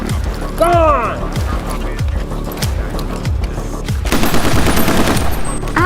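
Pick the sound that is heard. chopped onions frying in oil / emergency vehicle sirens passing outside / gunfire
gunfire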